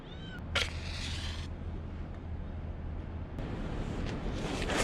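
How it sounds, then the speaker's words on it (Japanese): A cat gives a short, rising meow close by at a windy coastal campsite, followed by soft rustling over a steady background of wind. "あ、猫が来た。"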